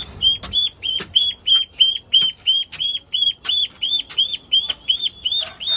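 A duck quacks in a steady run of about fifteen loud, close, evenly spaced calls, each a short nasal honk, with nothing else heard between them.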